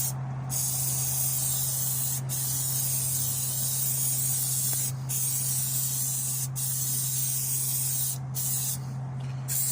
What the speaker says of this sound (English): Bit of stone guard at the back.